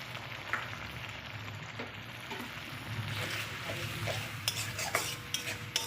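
Green chili, poppy seed and mustard paste frying in oil for a prawn malai curry, a close steady sizzle with clinks and scrapes of a spoon against the pan, growing slightly louder toward the end.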